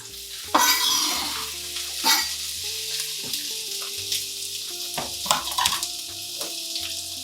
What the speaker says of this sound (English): you want it all in there together to marinate while it cooks.